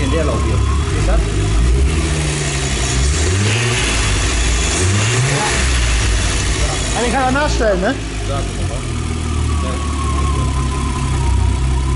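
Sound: Golf 3 VR6 turbo engine revving and idling

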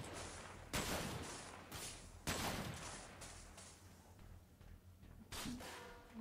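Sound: gunfire in video game Sophonce

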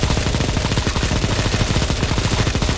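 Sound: shotgun gunfire in the video game CSGO

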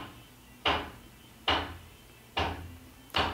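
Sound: hammering

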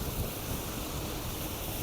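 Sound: flowing river water in Austria

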